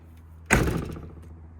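A single sharp mechanical clunk of a 2015 Dodge Charger's trunk latch releasing, followed by a brief fading rustle, heard close over a low background hum.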